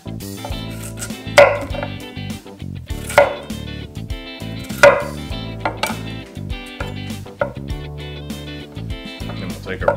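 Knife cutting a potato on a flat cutting board, several sharp chopping strikes in an irregular rhythm among clinks and kitchen background noise, close and fairly loud.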